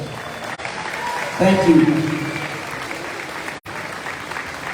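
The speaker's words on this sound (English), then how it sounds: "let's just give these guys that were 9-3, by-district champions, back-to-back, 2 years in a row, a big round of applause" Applause from a crowd at a high school athletic banquet, a steady wash of clapping that swells briefly and holds, with a voice speaking over it.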